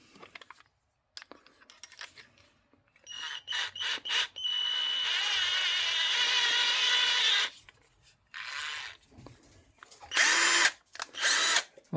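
A cordless power drill from a small tool kit runs close up in several bursts: a long steady whir in the middle, then shorter runs near the end, with quiet clicks and handling between. No one speaks.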